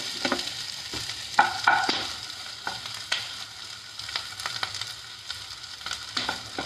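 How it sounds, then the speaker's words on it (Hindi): Whole spices on a low flame and onions on a medium flame roast side by side in two pans on gas burners for an onion-garlic chutney, with a soft crackling sizzle broken by scraping and stirring clacks. "मीडियम फ्लेम पे हम यहाँ पे दोनों गैस पे सेक रहे हैं साइड में"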